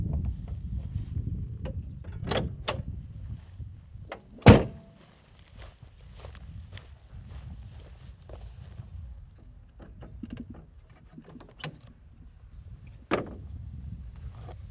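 Bonnet of a 1987 Mercedes R107 560 SL opened up close: a single sharp metallic thunk of the latch and lid stands out midway, with a second softer clunk near the end and quiet handling noises throughout.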